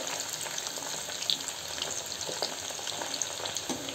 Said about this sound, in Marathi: फ्लॉवर गोल्डन ब्राउन होईपर्यंत तळून घ्या।